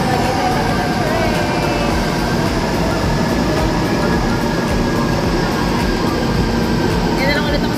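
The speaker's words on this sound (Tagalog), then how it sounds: "So, finally, naghihintay na lang kami ng train." MRT train at a busy station platform, a steady loud rumble and hiss of the train running throughout, with faint squeals and crowd noise layered in.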